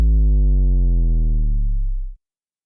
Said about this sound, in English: It's a bass drop.